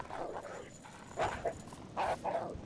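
Dogs bark in the Alone in the Dark: The New Nightmare video game, several bursts repeating at moderate distance over low ambient game noise.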